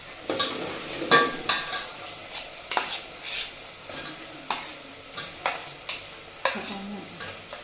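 Tomatoes and masala fry in oil in a pan for a Bhogi vegetable dish: a steady sizzle broken by repeated clinks and scrapes of a spoon stirring against the pan, close and alone with no talk.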